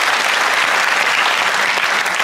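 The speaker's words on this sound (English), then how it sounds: "Bunty Bailey, give her a round of applause." Studio audience of a comedy quiz show applauding, a dense, continuous burst of clapping at steady, loud volume throughout.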